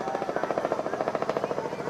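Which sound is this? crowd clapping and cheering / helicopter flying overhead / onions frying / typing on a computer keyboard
helicopter flying overhead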